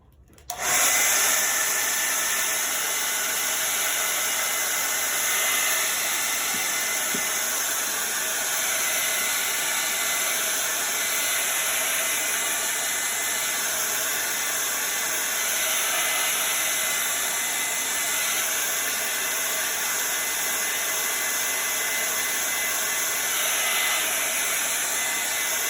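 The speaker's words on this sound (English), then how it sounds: "now I'm going to blow dry that and make sure that that's nice and dry before we put it back down." Hair dryer blowing to dry chalk paste on a fabric-covered board, switching on abruptly and then running as a loud, steady, hissing roar for the entire stretch, close and unbroken, with no voices.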